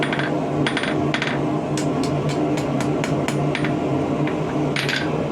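A hammer strikes a steel arrowhead on an anvil while forging it into a square taper, sharp metallic clinks in irregular rapid bursts close up over steady background noise.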